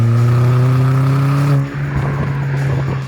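A Ford Fiesta ST with a cat-back exhaust rumbles with a deep, steady exhaust note, then shifts and settles into a rougher idle, loud and close.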